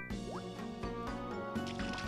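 Watering crops in the video game Story of Seasons: Trio of Towns: squishy, dripping liquid splashes layered over cheerful game music, quiet and continuous.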